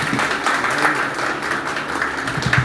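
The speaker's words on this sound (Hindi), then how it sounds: "जोरदार तालियां चाहिए सर के लिए, जोरदार ताली" An audience claps for a speaker at a gathering, a steady, dense round of applause that carries through without a break.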